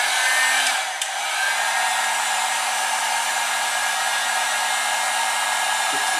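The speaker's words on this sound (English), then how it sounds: "We'll just put a little bit of low heat on it to get it dry." A hair dryer on low heat blows steadily while drying paint, a close, constant whooshing hum with a brief dip near the start and no talking.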